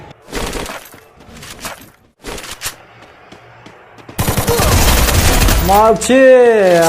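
Bursts of automatic gunfire from an MP40 and a G36 in a shooter video game, several rapid rattling volleys separated by pauses, then a loud continuous stretch with a sweeping whine at the end.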